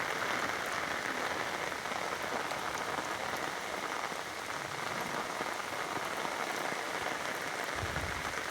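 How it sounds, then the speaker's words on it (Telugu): Heavy rain pours down steadily in a dense, even hiss, with water from an overflowing drain rushing beneath it, loud and constant throughout with no talk. "అంటే ఎంత వాటర్ వచ్చిందో చూడండి అసలు వాన"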